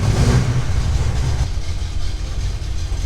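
A Pontiac Trans Am project car's engine turns over and runs, a steady loud low rumble with an uneven idle close by, no talking.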